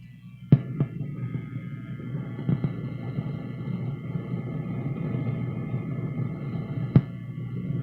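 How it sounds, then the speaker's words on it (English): A Peavey tube amp with a bad tube hums low and steady, broken by a few sharp isolated pops spaced several seconds apart. "There, you hear that popping? That's why I got a bad tube."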